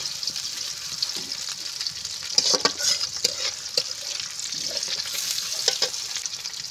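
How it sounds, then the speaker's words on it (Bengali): Onions sizzle and fry steadily in a hot pan while being stirred, the scrape of the spoon cutting in with irregular clinks and clatter over the constant close hiss of the oil. "পেঁয়াজটা দিয়ে এইভাবে আমি নেড়ে চেড়ে"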